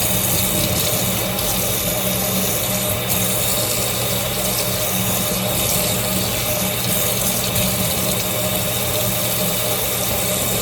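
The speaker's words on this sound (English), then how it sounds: "I'm just going to run the water on it for a couple of minutes." Cold tap water runs steadily into a kitchen sink over a corned beef brisket being rinsed, a loud, continuous close-up splashing rush that never lets up.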